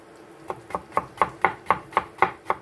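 A knife finely chops food on a board in a steady, even rhythm of about nine crisp, close cuts, with no voices.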